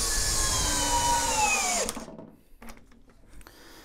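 An Ingco cordless impact drill runs under load in a torque test, a loud high whine that climbs in pitch then cuts off, followed by a few short mechanical clicks and bursts.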